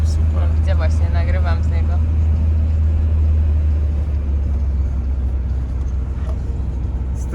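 Steady low engine rumble and road noise from a car being driven on a trip to the mountains, continuous and close throughout, with people talking inside the vehicle over it.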